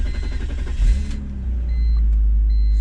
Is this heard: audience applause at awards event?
no